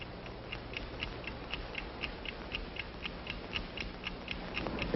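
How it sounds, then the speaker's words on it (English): The Hobart gold finder gives off a steady, rapid mechanical ticking signal, evenly spaced clicks heard close and fairly quiet against a faint background hum. "You hear that ticking? You hear it? That is the signal that the precious metal is near."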